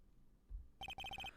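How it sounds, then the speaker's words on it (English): A phone ringtone in the Ace Attorney Justice for All video game, beginning with a short thump and then a quick series of bright electronic beeps in a steady rhythm, close and clear with no talking. "what is this stupid sounding ringtone?"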